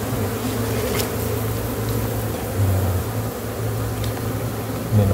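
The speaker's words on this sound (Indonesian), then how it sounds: "Ini lebah liar ya" Wild Javanese bees at a honey harvest in a durian orchard gazebo, buzzing in a steady dense drone close by, with individual insects droning louder as they pass.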